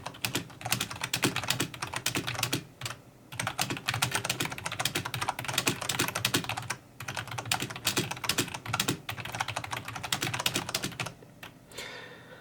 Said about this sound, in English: it's a reasonably silent keyboard, and it is a membrane, obviously membrane keyboard